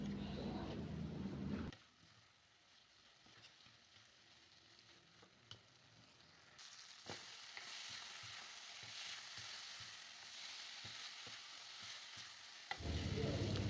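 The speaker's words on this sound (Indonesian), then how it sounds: "Baru kita aduk-aduk dan masak kembali sampai sedikit berminyak ya, atau kering, akan lebih enak." Green chilies hiss and sizzle steadily in an oily pan while being stir-fried. Scrapes and clinks of stirring recur throughout, and the frying grows louder near the end.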